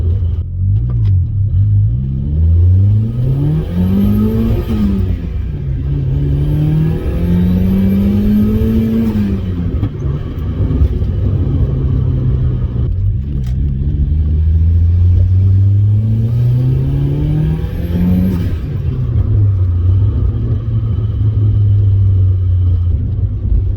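A turbocharged car with a suspected slipping clutch is pushed hard under load, its engine note climbing and falling through repeated strong pulls over a loud steady rumble, with a faint high turbo whistle on top, heard from inside the cabin.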